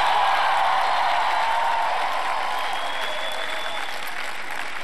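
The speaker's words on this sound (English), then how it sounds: "It's almost like sarcastic applause." Sustained crowd applause following a political concession speech, a steady dense wash of clapping that starts loud and slowly tapers over about five seconds.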